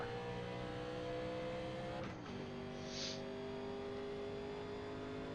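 1987 NASCAR race car engine at full throttle in the iRacing simulator, a steady, loud, droning roar with a brief dip and shift in pitch partway through, continuous and close.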